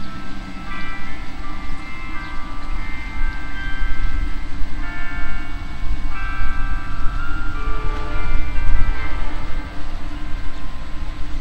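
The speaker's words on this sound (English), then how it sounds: "There's a church bell's going there." Church bell ringing from a distance in a small-town park in Mena, Arkansas, a faint repeated metallic tolling under steady outdoor background noise.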